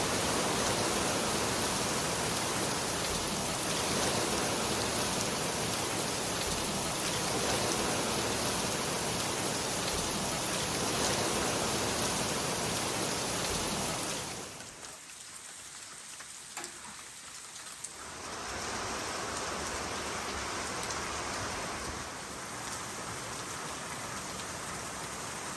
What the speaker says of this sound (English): Holy cow. I've never seen this much rain.